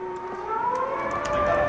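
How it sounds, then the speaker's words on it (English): Sirens wail steadily at a high school football stadium after a touchdown, a loud, sustained rising tone with layered harmonics that carries on without talking. "The sirens are sounding."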